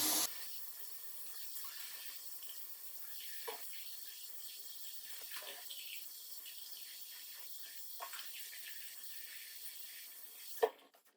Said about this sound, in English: And to wash off this peel, I use a sponge.